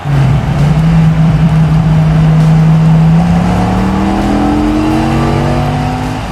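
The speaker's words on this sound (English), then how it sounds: "Watch as he roars down the track and gets major hang time off the jump." A roaring race-car engine accompanies a Hot Wheels SRT Viper GT SR diecast car speeding down a jump track, its pitch climbing steadily as it revs, loud and continuous with no talk.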